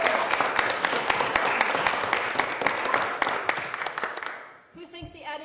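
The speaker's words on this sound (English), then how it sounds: "if you want Rams to get the Spirit Award, you clap" An audience claps together to vote for an award at a medical conference quiz game, a dense burst of applause that fades out over several seconds.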